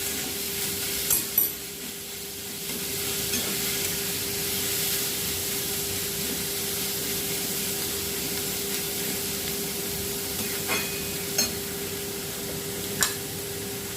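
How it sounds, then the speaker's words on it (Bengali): Chopped onion frying lightly in a pan gives a steady, even sizzle that holds for the whole stretch, with a few soft clicks and taps rising briefly above it. "তারপর আমি পেঁয়াজটা দিয়ে দেবো। বেশি ভাজবো না, হালকা ভাজবো।"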